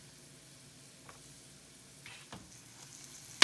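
Garlic and Epi's green seasoning stirred in a hot pan while cooking down for stuffed peppers: a faint, steady low sizzle with a few soft scraping stirs toward the end.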